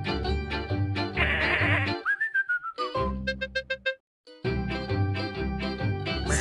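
Cartoon sheep bleat loudly in a children's counting video game, several wavering bleats over a bright musical backing, with a rising whistle and a run of short plucky notes, then a brief silence before the bleating resumes.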